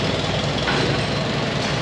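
A farm tractor engine runs at a steady, loud drone while it moves grain wagons, with a continuous rumble and no pauses.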